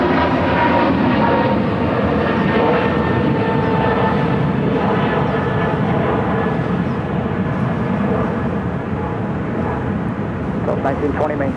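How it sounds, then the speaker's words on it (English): An American Airlines Airbus A321, flight 1635, thunders steadily nearby at Phoenix airport, a loud continuous jet engine roar holding throughout before fading slightly near the end. "This is American Airlines 1635 headed to Washington National in an A321"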